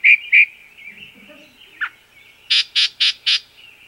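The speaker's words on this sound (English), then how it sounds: "That yellow-breasted chat, the big warbler, was the chat." Yellow-breasted chat, a large warbler, singing in a birding setting: two loud whistled notes, a short pause, a brief low note, then four rapid harsh squawking bursts in an even rhythm, close and clear with no talking.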